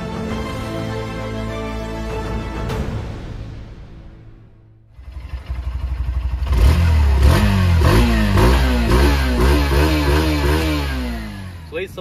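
An air-cooled 163cc single-cylinder engine on a Hero Xtreme 160R Stealth motorcycle, close and loud, idling and then revving hard in repeated rising-and-falling throttle blips after a brief lull.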